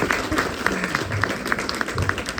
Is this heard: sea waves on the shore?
no